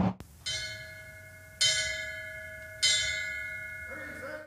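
Bells tolling at a firefighter's memorial service, three clear metallic strikes roughly a second apart, each ringing out with a long shimmering decay before the next.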